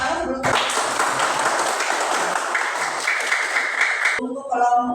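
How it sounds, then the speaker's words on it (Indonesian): Primary school students in a classroom break into loud, enthusiastic clapping that fills several seconds, then stops abruptly as children's voices return. "Jadi boleh tepuk tangan yang paling semangat"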